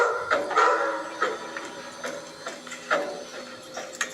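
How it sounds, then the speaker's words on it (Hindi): A dog barks and yips repeatedly at close range, the short bursts coming in an uneven rhythm. "वो डॉगी भी भौंक रहा था भाई"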